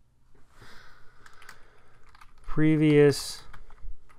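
Light, sparse clicks from a computer keyboard as text is typed, followed by a short spoken word and a few more taps.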